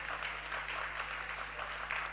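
Audience clapping during a Jain monk's sermon at the Kshamavani festival, a steady, faint wash of many hands heard from a distance, with no speech.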